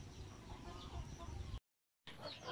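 Native chickens cluck and chatter close by in a busy, continuous flock murmur, broken by a short silent gap before the clucking resumes.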